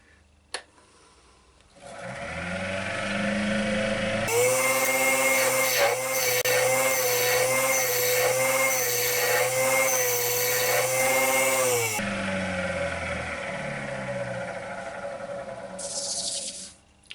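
Woodturning lathe hollowing out a pot pourri bowl with a gouge, a steady high whirring tone with a sustained scraping cut layered over it for several seconds, the motor running before and after the cut.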